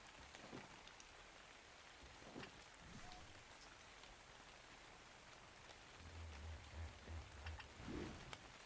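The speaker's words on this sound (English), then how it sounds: "Well, it's raining. It's pouring." Rain falls steadily in the video game Ark Survival Evolved, Scorched Earth map, a faint even patter throughout with a few soft drops and low rumbling bumps near the end.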